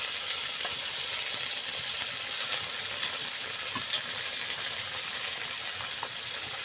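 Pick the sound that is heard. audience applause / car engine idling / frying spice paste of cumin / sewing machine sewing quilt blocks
frying spice paste of cumin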